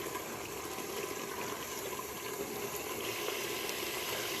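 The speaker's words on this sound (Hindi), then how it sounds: "हल्का सा पानी लगाऊंगी और अच्छे से इसको भूनते जाऊंगी" Masala for daal mash fries in a pan with a light splash of water, giving a steady close hiss and sizzle that runs unbroken and fairly even throughout.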